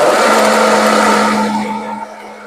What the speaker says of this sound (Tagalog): Ito na siya, blender na natin.